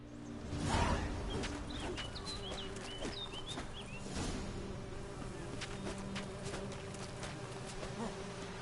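Bees swarm in The Witcher 3 video game, a thick continuous buzzing drone with a louder surge early on, while faint bird chirps flicker above it.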